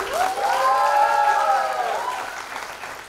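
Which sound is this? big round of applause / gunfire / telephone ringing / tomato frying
big round of applause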